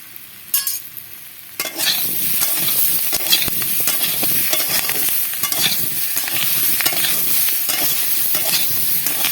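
Taro pieces and green chili paste fry in a hot pan with a loud, steady sizzle, punctuated by a few sharp utensil knocks at the start and light stirring scrapes throughout; no voices.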